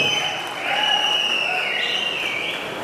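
An audience applauds at a film trailer launch event, with steady clapping and crowd noise under a high ringing hum, heard from within the hall and without any speech.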